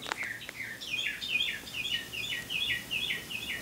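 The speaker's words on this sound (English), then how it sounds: "Wow, the birds are going nuts." Birds chirp and twitter busily outdoors on a warm spring day, a steady stream of bright, repeated calls close by, with no voices.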